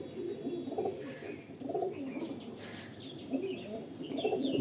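Several Andhra pigeons, a male and a female, coo in low, repeated throaty bursts at close range, with faint chirps and a soft background hiss and no talking.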